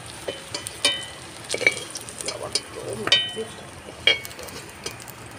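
Fried plantain being lifted out of hot oil while cooking shukto, with soft sizzling and the scrape and clink of a utensil against the pan, a few sharper taps scattered across a quiet kitchen background.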